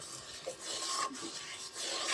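Thick ripe mango pulp being stirred continuously in a pan for mango leather, giving a soft, steady scraping and rubbing texture with brief louder strokes, close and alone.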